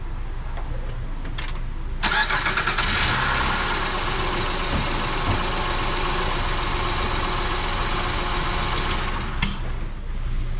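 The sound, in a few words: car engine running and being stopped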